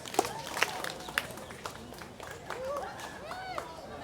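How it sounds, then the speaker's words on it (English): An audience at the Polynesian Cultural Center on Oahu, Hawaii, claps, with scattered hand claps and crowd noise sounding faint and distant beneath a lively, echoing mix of chatter. "So if you're happy and you know it, clap your hands."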